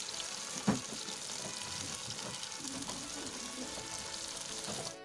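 Marinated chicken with masala paste fries in two tablespoons of oil in a pan, giving a steady close sizzle with one brief knock of utensil or pan early on.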